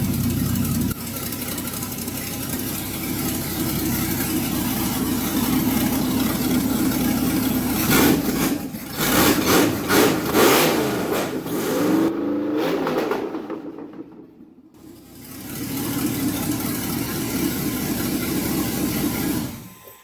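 An LS V8 swapped into a 1979 C3 Corvette rumbles loudly nearby, revving up and dropping back to a deep, throaty idle through old, open-sounding exhaust headers.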